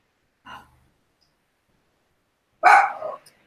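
A gripey house dog, not very old, gives a faint short huff followed two seconds later by one loud, close bark, with silence in between.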